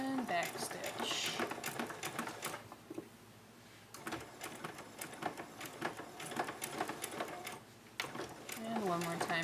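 A sewing machine stitches a homemade protective mask in bursts, running forward and back with short pauses between passes, close and moderately loud, with a voice speaking over parts of it.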